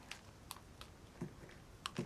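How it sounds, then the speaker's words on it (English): Sparse, crisp mechanical clacks of typewriter keys, a few isolated strikes with uneven gaps, close and fairly quiet, no voices. "Hence the typewriters."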